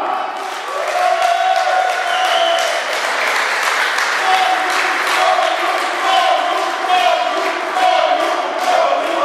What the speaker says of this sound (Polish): proszę o gorące brawa, które będą wyrazem naprawdę uznania dla tego człowieka